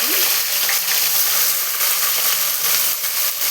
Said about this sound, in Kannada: ಈಗ ಅದನ್ನ ಎಣ್ಣೆಯಲ್ಲಿ ಬಾಡಿಸ್ಬೇಕು